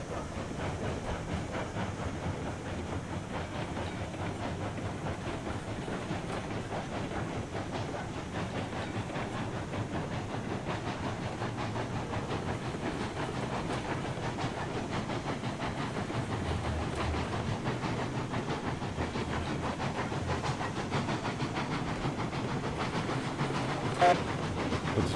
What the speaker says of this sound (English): But the train sounds like it's going to derail every time.